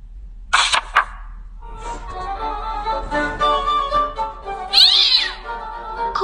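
A kitten meows several times in quick succession, and its high, rising and falling cries come clear and close in an otherwise quiet room.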